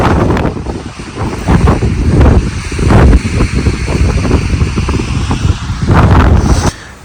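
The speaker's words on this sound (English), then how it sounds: "We got 30-mile-an-hour winds with probably higher gusts" Strong wind of about 30 miles an hour roars steadily against the microphone in heavy, buffeting gusts that rise and fall throughout, beside a tent.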